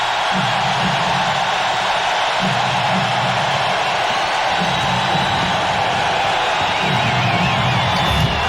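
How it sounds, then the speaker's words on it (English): A basketball arena crowd roars steadily through a 1993 NBA playoff game, Celtics at Hornets, a dense, loud wash of cheering with rhythmic chanting surges rising underneath. "Listen at this crowd."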